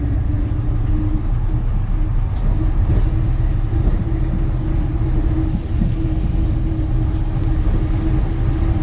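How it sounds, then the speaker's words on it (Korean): A town bus rumbles and hums steadily nearby on a narrow, steep one-lane road in Yeongdo, Busan, a low continuous drone with a faint whine, no talking. "버스가 집 앞을 지나가고 있어요"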